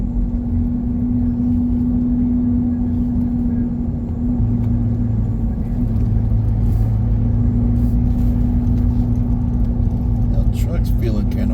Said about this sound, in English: Now the truck's feeling kind of weird. You hear that howl? Got a little howl going on.